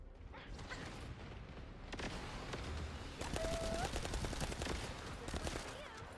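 Mechanical clicks and clacks of a gun reloading in The First Descendant video game, mixed with ongoing automatic fire and a low rumble, fairly loud and continuous.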